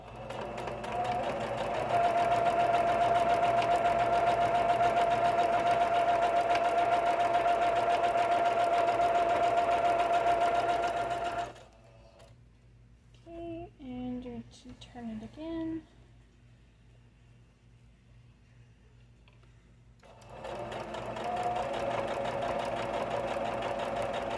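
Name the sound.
sewing machine stitching a circle potholder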